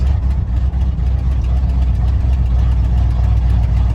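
A 1987 Ford Bronco XLT idles after sitting through winter, with a steady, loud, low engine rumble and a slightly uneven pulse throughout. It may be misfiring.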